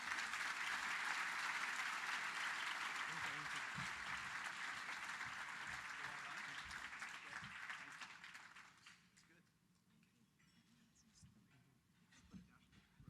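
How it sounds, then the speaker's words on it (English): An audience at a yacht industry annual meeting gives a round of applause for Rose Dahlman, steady clapping that gradually fades out, followed by a quieter room with faint voices. "Let's give a big round of applause for Rose Dahlman"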